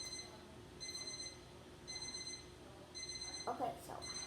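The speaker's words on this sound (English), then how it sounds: "how do I turn my alarm off?" A Roblox Bloxburg alarm clock rings in repeated short electronic bursts about once a second, fairly faint, with a brief voice sound near the end.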